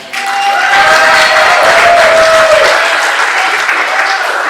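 Loud, sustained applause fills a hall at a wrestling show, a thick roar of clapping with some cheering and a few whistles rising over it, continuing steadily throughout.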